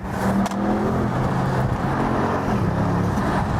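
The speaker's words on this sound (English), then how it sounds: "I like its roaring bass, and it's the same 4-liter engine" Audi RS7 with a 4-liter engine, heard from inside or close by while driving as a steady, deep engine drone mixed with road noise and a few slight swells in revs, with no talking.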